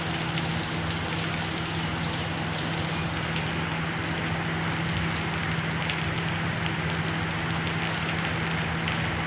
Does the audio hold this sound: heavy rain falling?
yes